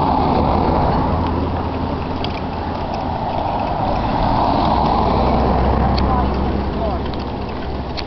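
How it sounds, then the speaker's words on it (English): Cars passing on a road, a steady loud rumble of traffic with engine drone throughout, close and continuous, drowning out the surroundings. "I'll have to wait till the cars go past."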